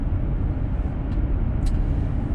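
A car driving on a road through the Low Tatras mountains on summer tyres, a steady loud low rumble of engine and road noise that holds without a break.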